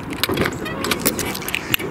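Keys jangle near the trunk lock of a 1961 Ford Fairlane 500, a few close, bright metallic clinks and rattles over low background rumble, with a voice speaking.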